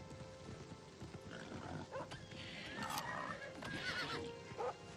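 A unicorn in Oblivion Remastered neighs and whinnies in a few sharp, bright bursts over a low game backdrop, fairly close and moderately loud.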